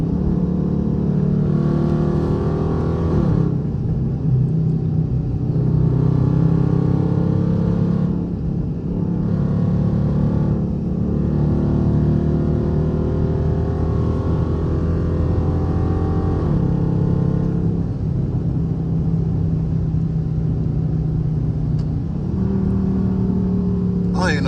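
A Dodge Charger R/T engine drones steadily while driving in traffic, heard from inside the car, with its pitch rising and falling through downshifts over a continuous loud rumble.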